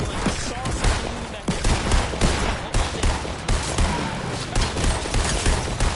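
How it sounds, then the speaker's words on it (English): Rapid gunfire in a Fortnite match, with dense overlapping shots and bursts that crackle loudly and almost nonstop for six seconds, some volleys sharper and nearer than others. "Why my own teammate are shooting at me?"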